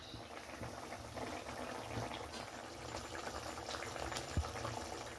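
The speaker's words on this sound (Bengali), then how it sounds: "এখন এটাকে ভালো করে ফুটিয়ে তারপর নামানো হবে" Fish curry simmers at a steady boil in a pot, a continuous bubbling that holds an even level throughout with one brief louder pop near the end and no talk.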